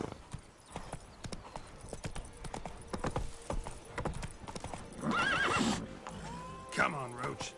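Video game horse Roach clip-clopping with steady hoof beats, joined by a sharp whinny and a later neigh near the end, with some speech-like sounds mixed in.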